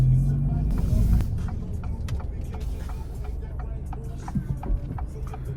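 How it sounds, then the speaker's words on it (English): A 2024 Acura Integra Type S pulls onto a highway with throttle applied, its engine and road noise a steady close rumble inside the cabin, with faint clicks and knocks over the drone. "Gonna take the highway back and get a little bit of a highway blast."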